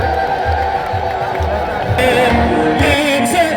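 A crowd at an Ethiopian Orthodox church feast celebration in Addis Ababa ululates, high trilling voices rising over a steady murmur of people, loud and near.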